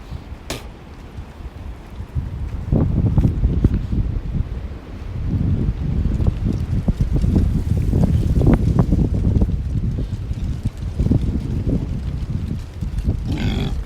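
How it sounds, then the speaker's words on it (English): Wind outdoors on a windy day, rough low gusting rumble against the microphone that rises and falls in uneven surges, fairly loud and close, with no one talking. "Windy out today."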